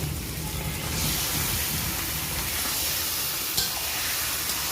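Broiler chicken meat frying in a pan with onion, whole garlic cloves and spice, a dense steady sizzle with stirring scrapes throughout, close and fairly loud, one brief knock near the end.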